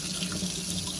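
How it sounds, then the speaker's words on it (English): Water runs steadily from an upstairs tap, a continuous close hiss of flow with no breaks and no voices. "Let me go ahead and turn some water on upstairs"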